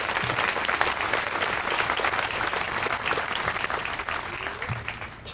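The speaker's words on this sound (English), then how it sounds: "So let me have one more round of applause for all of them." Sustained audience applause at an outdoor veterans memorial dedication beside a creek in Edina, a dense, steady crowd clapping that holds for several seconds before thinning slightly at the end.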